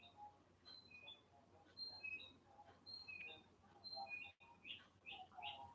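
A small bird outdoors gives repeated high, thin chirps and short tweets in an irregular, lively pattern, fairly faint and a little distant against a low background hum.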